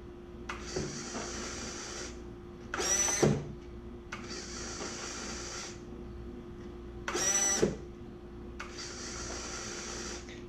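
A servo-driven swing-wing mechanism on a twin 70mm EDF F-14 model whirs quietly in repeated sweeps, with two louder buzzing pulses between them in a still room.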